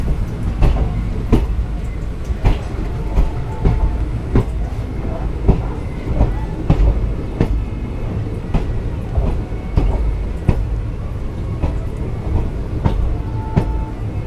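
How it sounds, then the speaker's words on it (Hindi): Avadh Assam Express passenger train rolling past on rails in the Rajasthan desert, steady loud rumble with rhythmic clickety-clack of wheels over rail joints throughout, close by. "ओहो, ये है अवध आसाम एक्सप्रेस।"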